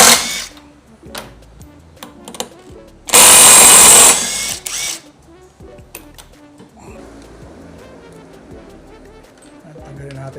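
A power drill whirs loudly in one burst of about two seconds while screws come out of a Vespa Sprint Tech CVT cover, with clicks and handling clatter around it and someone talking.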